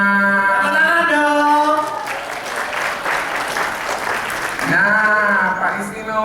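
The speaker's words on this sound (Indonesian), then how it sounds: "Tepuk tangan dong." A group of people clap together in steady applause, with speaking voices before and after.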